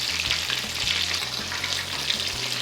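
Tonkatsu pork cutlet fries in hot oil with a steady, close crackling sizzle, fairly quiet and even, alongside a faint low hum.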